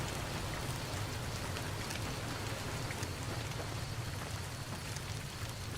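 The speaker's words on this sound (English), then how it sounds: "It's raining." Steady rain pours down in the Fallout New Vegas wasteland, a dense, even hiss of drops on surfaces that holds without pause, loud and close throughout.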